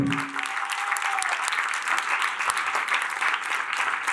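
Applause from a church congregation during a sermon, steady and dense throughout, loud and close with no speech over it.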